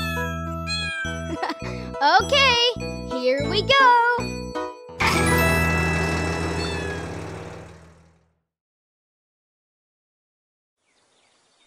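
Cats riding in a toy fire engine meow several times in quick succession, close and clear, followed by a long jingling chime that fades out, with a brief spoken line near the start.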